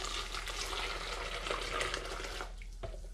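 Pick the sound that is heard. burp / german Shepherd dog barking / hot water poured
hot water poured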